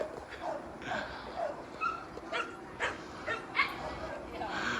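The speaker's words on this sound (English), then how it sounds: "This is Levi, the massive dog in the house." A massive dog at an animal shelter yips and whimpers in short bursts at close range, mixed with other dogs, while a person talks over it.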